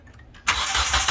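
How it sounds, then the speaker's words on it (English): A Hyundai or Kia 2.0 car engine cranks and catches abruptly after a timing belt replacement, running with no motor mount, then settles into a loud, steady, slightly rough idle close by. "Okay guys, I'm gonna turn on the car. Remember, it has no motor mount, so it may hear bumpy."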